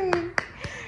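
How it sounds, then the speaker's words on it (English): A few sharp hand claps land in a loose rhythm during a sung children's tune at a birthday brunch, with a singing voice audible at the start. "clap your hands"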